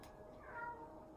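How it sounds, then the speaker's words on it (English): A house cat gives a single short, faint meow, rising briefly over quiet room tone. "that was my cat"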